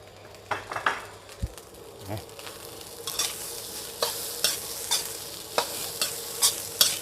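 Rice and chili being stir-fried in a pan, a spatula scraping and tossing in irregular strokes over a low sizzle, with metallic clinks of utensil against the pan, close by and no talking.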